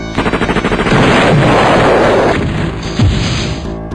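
Rapid gunfire from a comedy radio sketch, a loud burst of repeated shots building into a dense roaring volley with a heavy boom near the end, played with no speech over it.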